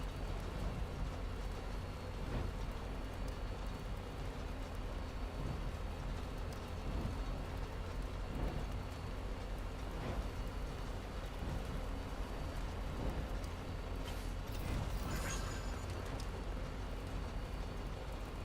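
Steady rain falls in the video game Death Stranding, a continuous even hiss of rainfall that runs alone throughout with faint scattered drops and no talking.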